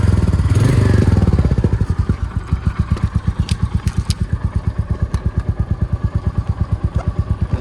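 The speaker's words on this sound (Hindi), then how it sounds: "तो बाइक में ज़रा लगाऊं चाबी और बाइक को थोड़ा फिर गर्म करें" A motorcycle engine starts with a key and warms up. A brief louder burst gives way to a steady, close, rhythmic idle thump that holds evenly to the end.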